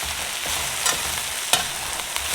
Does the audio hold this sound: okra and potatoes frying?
yes